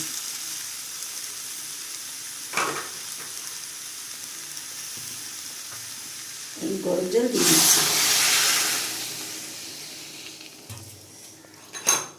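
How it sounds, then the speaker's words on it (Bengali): Hot water is poured into a pan of spiced potatoes and pointed gourd for a prawn curry, raising a loud burst of sizzling hiss for a couple of seconds amid faint kitchen clatter. "এবার এর মধ্যে আমি গরম জল দিয়ে দেবো"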